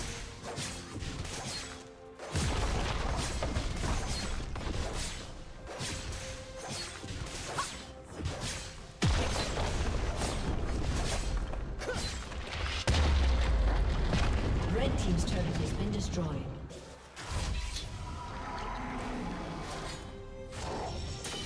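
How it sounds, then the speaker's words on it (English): A turret being destroyed in League of Legends during a Katarina versus Syndra mid-lane match: heavy crashing and booming impacts with whooshing ability effects, loud and dense, ringing over continuous in-game sound. "Red team's turret has been destroyed"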